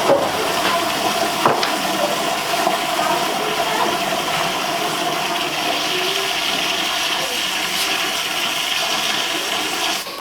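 Water gushes steadily from a hose inside a cold barn, a loud continuous rushing hiss with a few brief knocks near the start.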